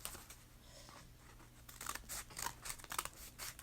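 Scissors cut through paper in short, crisp snips, several spaced bursts in a cut-and-pause rhythm, faint and close in a quiet room.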